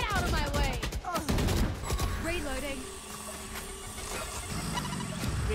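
Gunshots in the tactical shooter Valorant: a few sharp shots crack near the start, followed by mechanical weapon handling and whooshing ability effects, while players talk throughout.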